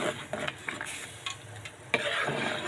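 Soup stirred in a pot on a stove, with scraping and clinking of a utensil against the pot and an occasional faint sizzle, close and fairly quiet, no talking.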